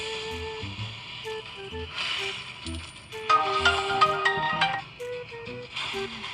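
A mobile phone ringing with a repeating electronic melodic ringtone, bright tonal notes recurring in short phrases, moderately loud indoors with no voices.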